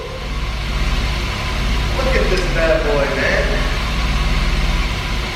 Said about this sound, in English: that is a normally idling M50